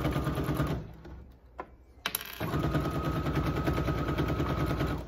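Sewing machine backstitching over the opening of a double fabric wallet: a fast, loud mechanical rattle of needle strokes, a short pause with a few clicks, then the rapid stitching starts again and continues close up.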